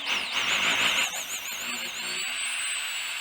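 A power drill whines at high speed, its pitch wavering as it bores bolt holes for a custom seat mount in a VW Beetle Baja Bug, then holds a steadier tone near the end.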